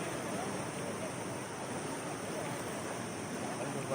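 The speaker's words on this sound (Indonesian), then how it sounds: "penuh dengan suara-suara deru air yang menghantam ke batu-batu yang ada di sungai tersebut" River rapids on the Krueng Tangse, water rushing and crashing against rocks during a rafting outing; a continuous, fairly loud roar of churning water with no clear speech over it.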